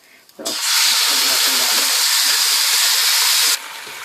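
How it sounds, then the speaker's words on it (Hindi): Garam masala frying in two tablespoons of oil for a Bengali chicken roast gravy: a loud, steady hiss that starts abruptly, holds for about three seconds, then cuts off sharply. "ये मैंने इसमें 2 टेबल स्पून ऑयल डाल दिया, और अब मैं ये फ्राई करती हूँ"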